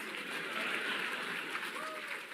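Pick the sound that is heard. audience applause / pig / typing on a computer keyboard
audience applause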